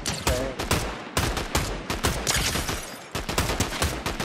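Rapid bursts of Fortnite gunfire crack out in repeated volleys across the whole stretch, loud and close, with short gaps between clusters of shots.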